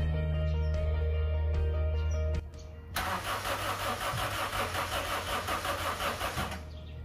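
A Honda CR-V with a bad distributor igniter and ignition coil has its starter crank in a steady rhythmic churn for several seconds without the engine catching, after a quieter humming stretch.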